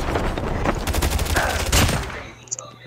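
Rapid bursts of automatic gunfire ring out during a squad-versus-squad match in Call of Duty Mobile, dense volleys in quick succession for about two seconds before tapering into quieter shots.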